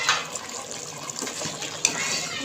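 Half a glass of water poured into a simmering beef karahi, a close hissing, bubbling gush of liquid hitting the hot pan and flowing steadily for a couple of seconds.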